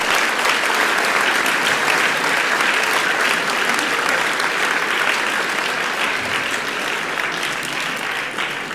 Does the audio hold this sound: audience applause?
yes